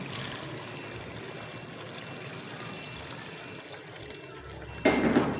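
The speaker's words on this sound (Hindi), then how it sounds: "अब इसमें पानी ऐड कर देंगे।" Steady stream of water pouring and splashing into a cooking pot of arvi gosht (taro and meat curry), continuous for several seconds, ending with a brief louder sizzle or splash.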